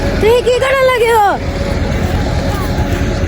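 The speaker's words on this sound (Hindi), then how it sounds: "सऊद भाई ट्रैक्टर चला रहे हैं भाई।" A tractor is driven with a loud, steady low engine rumble throughout, and a voice talks over it at the start.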